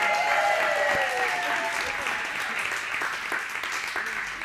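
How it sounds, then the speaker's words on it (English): Audience applause at a comedy stand-up show, a dense, steady wash of clapping from a large crowd that fades slightly over several seconds, with faint voices mixed in. "Give her a round of applause"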